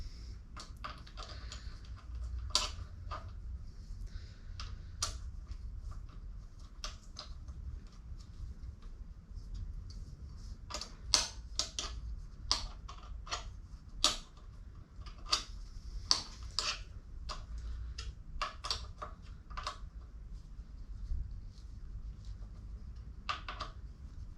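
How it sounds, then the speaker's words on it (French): Two screws being tightened on both sides of the handlebar of a Kostka Raptor Max Dog fat-bike dog scooter: sparse, irregular metallic ticks and clicks from a hand tool, fairly close, over a low steady background rumble. "on vient serrer les deux vis de chaque côté"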